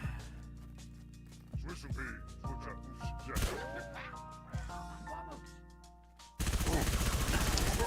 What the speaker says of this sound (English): I'll run around the corner and shoot him with the SMG